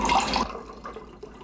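Water from a park drinking fountain rushes briefly and loudly, then drops away to faint dripping and trickling.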